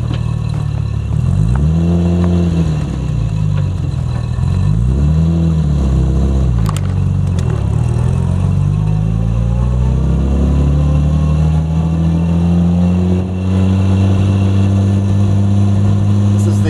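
A 1964 Jaguar E-Type Series 1 open two-seater roadster, built in 1963, is driven on a road; its engine revs climb and fall through the gears, loud and close over constant wind rush.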